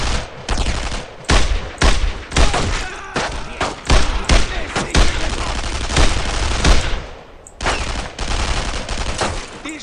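Heavy gunfire and mortar blasts in the World War II video game Brothers in Arms: Road to Hill 30, loud dense bursts of rifle and machine-gun fire with booming impacts, close and nearly continuous.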